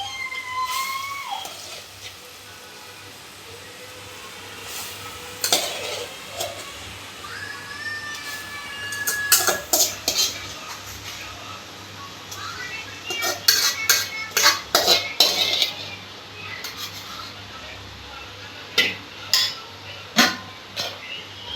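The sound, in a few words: stirring fenugreek leaves in cooking pot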